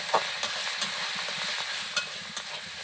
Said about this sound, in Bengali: এবার আমি আবারও সমস্ত উপকরণগুলোকে ভালো করে কষিয়ে নেব